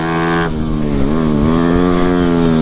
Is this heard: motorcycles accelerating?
yes